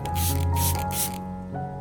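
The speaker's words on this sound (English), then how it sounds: "I gently spray a fine mist over the entire Anthurium plant, from the upper and lower leaf surfaces to the stems and the area around the base" A spray bottle mists a diluted beer solution over an Anthurium plant, three quick breathy hisses in a row at close range, followed by a short quieter stretch.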